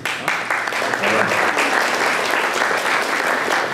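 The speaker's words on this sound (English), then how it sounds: "thank you for the applause" Audience applause at a college admissions information event, a dense, even wash of many hands clapping that holds at a steady, fairly loud level from start to finish while a voice speaks faintly underneath.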